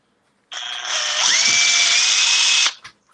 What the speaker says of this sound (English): once I drill this out